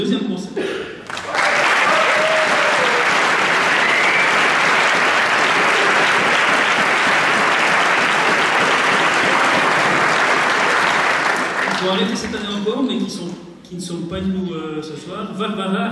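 Concert crowd at a showband gala bursts into loud, even applause that holds for about ten seconds, then fades as a voice begins speaking over the dying claps.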